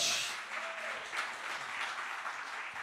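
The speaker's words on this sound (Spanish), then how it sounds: "Dale fuerte ese aplauso al Señor." A church congregation applauds during a sermon, a steady wash of many hands clapping that sounds fairly distant and soft, fading slightly at the start.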